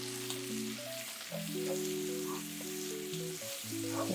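Brussels sprouts frying in hot bacon grease give a soft, steady sizzle beneath louder sustained background music notes, no talking.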